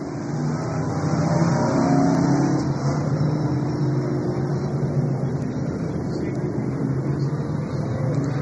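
Race car engines at Fulton Speedway during a yellow flag, a dense, steady roar of several motors idling and rumbling together, loud and continuous with a slight swell early on.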